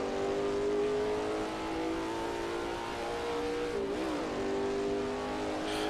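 A modded race car engine in Assetto Corsa drones at high revs, its pitch holding steady then dipping briefly as it shifts, loud and continuous with no talking.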